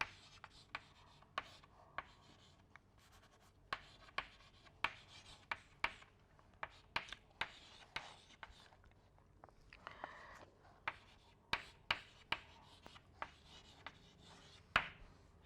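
Chalk or pen taps and scratches out a handwritten equation on a board, a quiet run of sharp ticks and short scraping strokes spaced irregularly over several seconds, with no talking.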